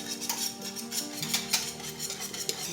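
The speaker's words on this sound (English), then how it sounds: "And then we're going to start stirring and stirring and stirring" A spoon stirring sugar into boiling peach peel jelly in a pot, with repeated soft scrapes and clinks in an uneven rhythm over a faint bubbling background.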